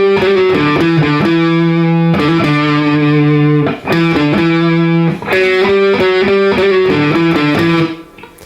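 Heavily distorted electric guitar plays the final riff of a song. Chunky sustained power chords alternate with quick picked note runs, loud and close, with no voices over it.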